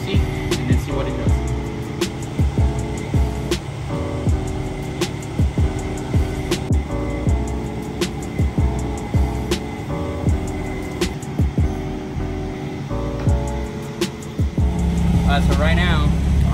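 A Porsche engine runs on a dyno, idling with a steady low throb and sharp clicking ticks repeating across the span, close and loud, with a brief rise in pitch near the end.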